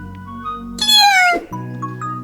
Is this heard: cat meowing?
yes